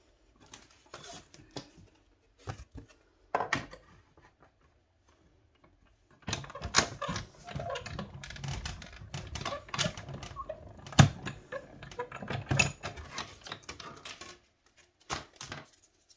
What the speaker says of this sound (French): Je vais prendre ce poinçon-là. Et dans la chute, toujours, cette fameuse chute verte, je vais venir découper 2 branchages comme ça.